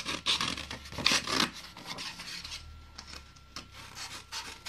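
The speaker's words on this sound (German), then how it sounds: "wir fangen direkt mal an mit dem Anschleifen, damit der Lack auch morgen haftet" Fine sandpaper rubbed by hand over the painted steel body of a 1964 VW Beetle dragster under restoration, giving close, raspy back-and-forth scrubbing strokes in irregular bursts with no talking.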